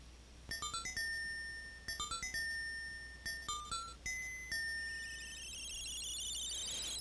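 The Sea Lily's Bell instrument from Link's Awakening plays a short jingle: bright chiming bell tones in quick descending runs, repeated in several phrases, with the last note ringing out and fading.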